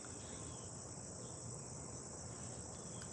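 Steady, dense chorus of crickets chirping continuously at a moderate distance, forming an unbroken high insect drone with no talk.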